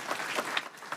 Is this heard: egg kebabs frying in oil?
no